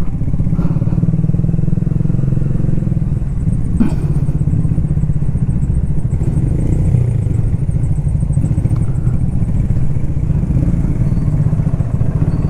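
A Triumph Speed 400 motorcycle engine running under way on a long highway ride, giving a loud, steady, close drone with constant low rumble and occasional clatter and thumps, alone without talk.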